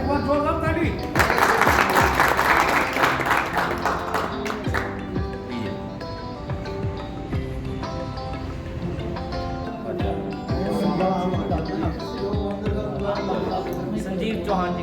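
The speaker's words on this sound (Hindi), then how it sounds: "एक बार जोरदार ताली।" Audience clapping at a political meeting, a loud burst of applause early on that fades under music and a voice talking, with scattered claps continuing faintly beneath.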